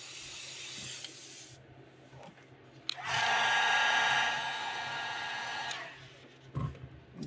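Aluminum base coat paint sprayed onto a fishing lure: a short hiss, a pause, then a longer steady spray burst of about three seconds, close and fairly loud, ending in a few small handling knocks.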